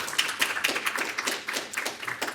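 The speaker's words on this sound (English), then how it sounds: "Let's just give our rising stars a round of applause." An audience at an awards ceremony applauds, a steady patter of many hands clapping throughout, moderately loud and without talk.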